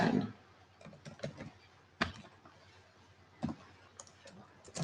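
Sharp, close computer mouse clicks arrive one at a time and a few seconds apart, separated by quieter stretches with faint soft handling noise.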